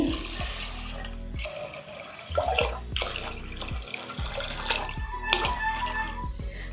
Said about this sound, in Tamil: மூணு டம்ளர் தண்ணி